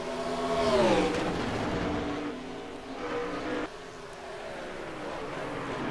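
A race car at a Canadian Super Series race at Canadian Tire Motorsport Park sweeps past, its engine note rising then falling away, followed by a fainter, steady engine drone at a distance.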